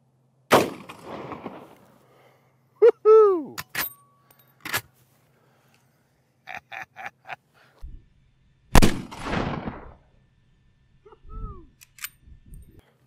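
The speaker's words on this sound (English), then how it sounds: "let's hit the range with a Marlin Model 1895 Trapper loaded with Hornady's 4570 325 grain FTX LeveRevolution" Marlin Model 1895 Trapper lever-action rifle firing .45-70 Hornady 325-grain FTX LeveRevolution rounds at an outdoor range, two sharp, loud shots several seconds apart, with a few metallic clicks and clatter of the lever action between them.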